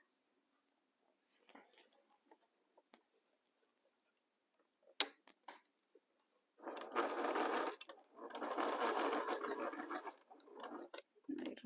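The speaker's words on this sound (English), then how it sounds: "we sew with 1/4 inch seam allowance" Sewing machine stitching fabric with a quarter-inch seam allowance, quiet handling and faint ticks at first, then two long loud runs of rapid stitching with a brief pause between, close by.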